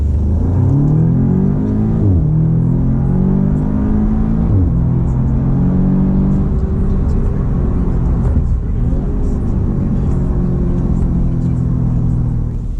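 An Audi S3 turbo car engine revs hard while driving, loud and close, with repeated rising pitch sweeps as it climbs through the gears, and the deep drone continues throughout.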